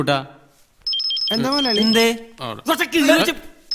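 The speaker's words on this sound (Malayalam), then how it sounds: "ഫോൺ വന്നിട്ട് കേട്ടോ നിനക്ക്?" An electronic phone ringtone in a Malayalam comedy film scene: a short, bright, repeating ring that overlaps with dialogue.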